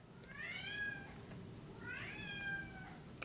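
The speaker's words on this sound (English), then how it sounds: "It's my cats, guys." A cat lets out two drawn-out meows, each rising and then falling, separated by a short pause, against a faint indoor background hum.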